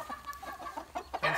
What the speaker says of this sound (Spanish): ahorita por lo pronto, pues tenemos nada más estos gallos